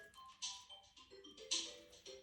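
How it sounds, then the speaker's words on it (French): A mobile phone ringtone plays quietly, a short melodic pattern of bright notes repeating in bursts, with no talking. "Ah, j'ai mon téléphone qui sonne."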